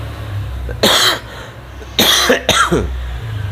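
Three sharp coughs, one short and two close together, from a woman with a slight cold, close to the mic in a small indoor space with no other talk.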